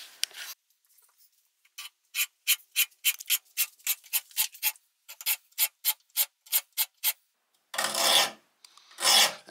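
A hand file rasps across saw teeth marked at eight points per inch. It makes a brisk series of evenly spaced scraping strokes, close and crisp, followed by a couple of longer, heavier rasps.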